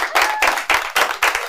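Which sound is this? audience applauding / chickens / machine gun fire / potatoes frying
audience applauding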